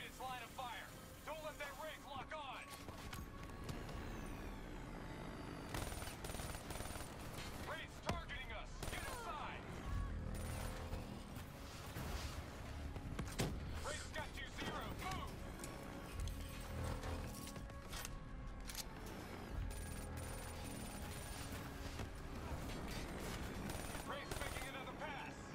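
Gunfire erupts in the Black Ops 3 campaign, loud bursts and rapid shots scattered through a busy, constant mix of game effects and music, with voices talking over parts of it.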